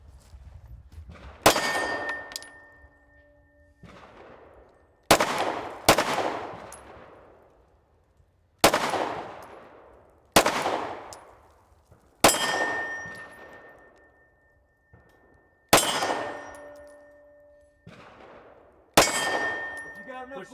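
Gunshots striking steel plate targets on a plate rack, each a sharp crack followed by a bright ringing clang that decays over a second or two, arriving singly and in quick pairs at irregular intervals, fairly close.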